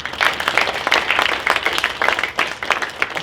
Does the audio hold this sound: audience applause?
yes